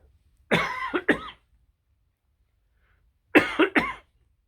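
Two separate bursts of coughing, each a couple of harsh close coughs, with a quiet pause between them.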